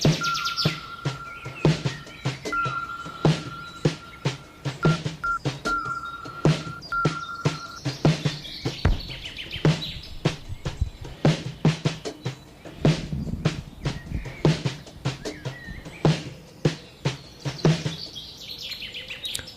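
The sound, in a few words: birds chirping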